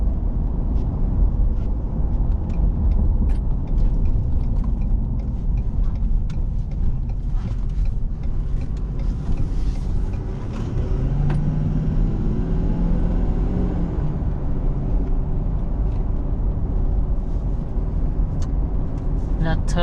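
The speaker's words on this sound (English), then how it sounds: "That turbo diesel engine, when the turbos kick in, boosted, it sounds like a jet engine." A 2019 Ford F250 turbo diesel engine runs steadily with a low rumble and a rising, jet-like turbo whoosh, fairly close and loud throughout, with someone talking over it.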